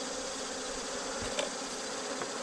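Honey bees at a hive in West Virginia, a dense, steady buzz filling the air with no voices, a close wing hum briefly swelling once.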